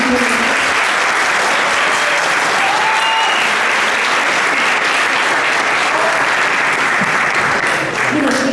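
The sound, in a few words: audience applause for professor Dexy's presentation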